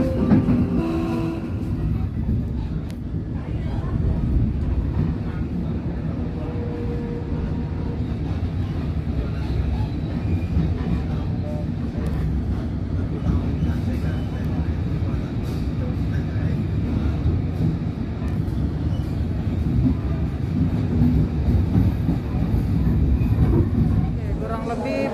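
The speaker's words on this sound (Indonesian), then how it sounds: "kereta api Brantas saat ini telah tiba di stasiun Semarang Tawang" The KA Brantas economy-class train, running from Jakarta to Blitar, rumbles steadily along the rails with a low, continuous drone and faint clatter heard from inside the carriage.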